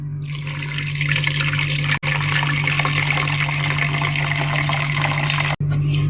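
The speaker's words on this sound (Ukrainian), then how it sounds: "Тепер нам треба його залити водою не дуже багато." Water pours steadily over sliced salmon with a constant rushing splash, broken by two short pauses, no voices.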